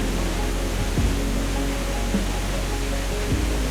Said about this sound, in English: The sound of the water was steady and very relaxing.